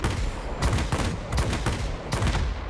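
The 30 mm cannons of a J8M fighter in World of Warplanes fire in three rapid bursts of heavy, thudding gunfire, close and loud, with brief pauses between bursts and engine drone underneath.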